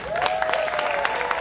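Audience applauds singers, a moderate spatter of claps with a few crisp individual strikes, while a sustained sung or whistled tone drifts faintly underneath.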